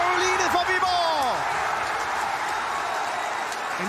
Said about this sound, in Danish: Ned mod de jublende Viborg-fans.